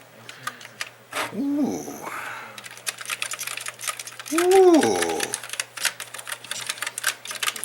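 Rebuilt TRS-80 Model II Keytronic keyboard being tested, a quick rhythm of close key clicks and clacks running throughout, while a man lets out two drawn-out appreciative sounds over the typing.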